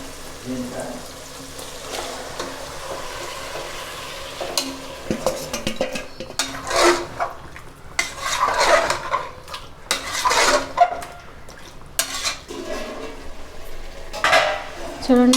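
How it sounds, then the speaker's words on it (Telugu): Chicken pieces fry among tomatoes, green chillies and onions for a gongura chicken pulao. A spoon stirs them with loud clanks and scrapes against the pot over a low sizzle, in irregular bursts up close, with faint background murmur. "ఇప్పుడు మనం చికెన్ వేసి వేగించుకోవాలండి"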